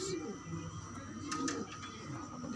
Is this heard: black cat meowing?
no